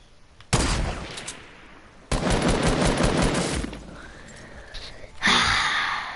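Video game gunfire comes in three loud, abrupt bursts of rapid shots separated by short lulls, close and harsh, with a brief voice between them.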